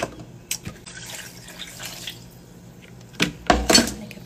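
Water splashing and dripping into a bucket while clothes and a towel are hand-washed and left to soak, with intermittent pours and sloshing that grow louder and busier toward the end.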